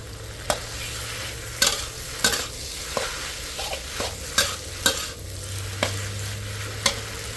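Pork with soy sauce and freshly picked garden vegetables is stir-fried in a pan, with steady sizzling under repeated sharp scrapes and knocks of the spatula at an uneven rhythm, close up with no talking.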